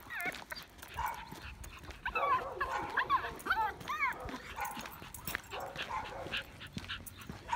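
An excited dog out on a walk whimpers and gives high, quick yips in bursts, fairly close, with faint outdoor background and a person talking at times.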